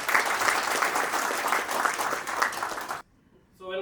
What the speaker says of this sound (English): So can we have a big round of applause to the founder and director of Rainbow Technologies, Mr. Kishore Nimbore sir.